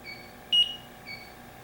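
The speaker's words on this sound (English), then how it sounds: "So we got the strobe and we got the single beep." An SRL2 refrigerant leak detector gives a single short, sharp electronic beep, clear against a faint steady tonal whine from the device.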